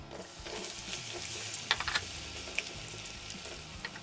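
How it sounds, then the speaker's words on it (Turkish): Potatoes fry in a pan of plenty of hot vegetable oil, a faint, steady crackling sizzle with scattered small pops and light clinks, no talk. "Patateslerin rengi dönene kadar kızartalım"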